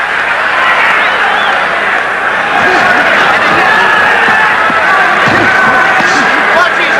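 Boxing crowd roaring throughout a middleweight title fight between Marvelous Marvin Hagler and Tony Sibson, a steady loud wash of cheering and chatter with commentary faintly under it.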